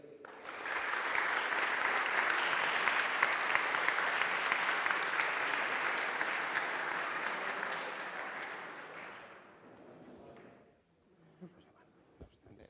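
Sustained applause from an audience for the second participant in a competition, steady and full for about nine seconds before thinning out and fading to near quiet.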